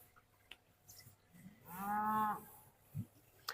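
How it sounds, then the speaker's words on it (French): A cow moos once, a drawn-out lowing call lasting about half a second, heard from some distance over quiet outdoor ambience during a yoga session, with a couple of faint knocks around it. "On entend ces vaches qui parlent toute la journée."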